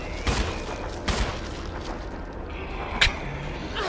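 Gunfire in the survival horror video game Resident Evil: a few sharp, separated shots ring out over a steady background of game ambience, with one prominent blast near the end.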